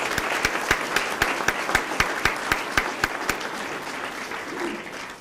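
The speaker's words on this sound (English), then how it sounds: "So let's please join me in giving all these people a round of applause" Audience applause at a Sarasota Police promotional and awards ceremony, a dense wash of many hands with a few sharp, regular claps standing out up close, steady for about five seconds before thinning slightly.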